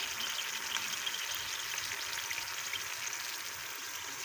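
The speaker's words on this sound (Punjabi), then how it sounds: "ਮਸਾਲੇ ਦੀ ਅੱਛੀ ਤਰ੍ਹਾਂ ਦੋ ਤੋਂ ਤਿੰਨ ਮਿੰਟ ਵਿੱਚ ਭੁਨਾਈ ਕਰਦੀ ਹੈ" Powdered spices, including turmeric and red chilli, fry in a pan with a constant, even sizzle that stays moderately loud and close, with faint stirring and no voices.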